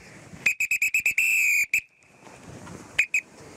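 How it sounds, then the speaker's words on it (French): A station master's shrill whistle blown on a railway platform in a quick series of short blasts, then one long blast, followed after a pause by two more short toots. "Le coup de sifflet."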